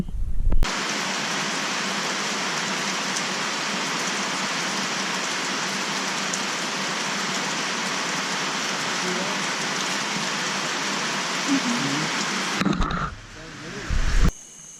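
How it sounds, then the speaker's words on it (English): Steady rain falls at a campsite at Lake Kissimmee State Park, Florida, during thunderstorm weather, a dense even hiss lasting about twelve seconds before cutting off into brief rustling and handling noise. "It's actually raining over there already."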